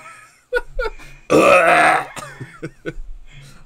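A person clears their throat in one harsh, rasping burst, set between short grunting vocal sounds in a quiet room.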